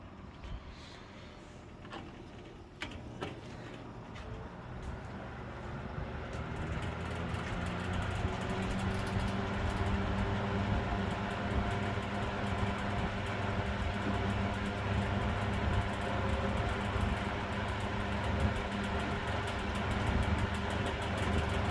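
A worn Dominion Twin 2500 box fan hums steadily with a faint mechanical rattle from its guards, quiet at first and then settling into a fuller continuous drone.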